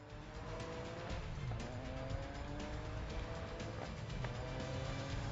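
A racing car engine drones steadily at speed in the Grid Legends racing game, with faint tire noise, the engine pitch shifting slightly as the car corners.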